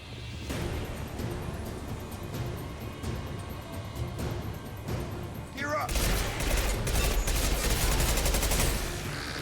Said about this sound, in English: Thought I had my other pistol out.